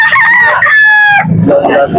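A rooster crows loudly and close up at a chicken sale, a long wavering call followed by lower clucking sounds, with no talk over it.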